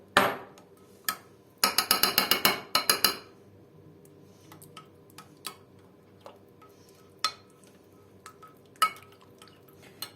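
Tomato paste stirred into oil and water in a pan, a fast flurry of close clicking spoon taps early on, then sparse single knocks and ticks spread over a quiet background.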